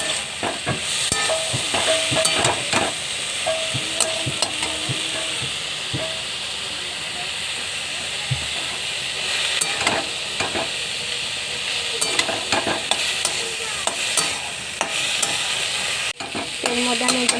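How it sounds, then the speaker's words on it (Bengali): Banana flower and potatoes being sautéed with ground spice paste in a pan: a constant hissing sizzle overlaid by frequent rhythmic scraping and clacking of a spatula, close by, with no speech. "এর মধ্যে আমি একটু মশলা বাটা দিয়ে কষিয়ে নিচ্ছি"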